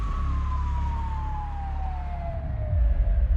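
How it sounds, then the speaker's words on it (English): An ambulance siren wails in one long, slowly falling tone over a heavy rumbling vehicle engine, loud and close, with no talk. "When the ambulance finally arrived at the clinic, a medical team was waiting."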